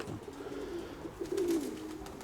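Pigeons of a prized breed coo softly and close by, a low rolling call that swells near the end, with no voices over it.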